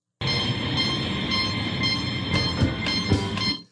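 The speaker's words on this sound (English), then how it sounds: "do you hear that white noise, the jet engine noise?" A steady, loud wash of broadband noise like a roaring jet engine fills the whole sample from Donald Byrd's 1973 "Flight Time", with faint tonal layers and a few brief swells near the end.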